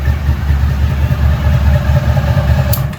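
A 1998 Honda VFR 800 V4 touring sport bike idles close up with a steady, throbbing low pulse, strong and even throughout, with a brief bright click near the end.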